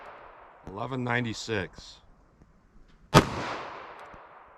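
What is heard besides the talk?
9mm pistol with 5-inch barrel firing 115 grain rounds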